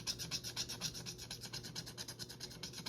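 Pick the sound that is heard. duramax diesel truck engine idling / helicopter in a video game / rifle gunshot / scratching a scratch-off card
scratching a scratch-off card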